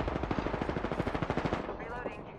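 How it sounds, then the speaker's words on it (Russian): Rapid automatic gunfire rattles in a steady burst of about twenty shots in an Apex Legends match, fading at the end into a faint ringing tone. "там стреляют"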